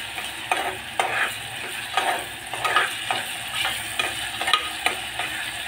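Chopped onion and crushed garlic sautéing in a pan, a steady close sizzle broken by repeated scraping stir strokes at a regular rhythm, with no talking.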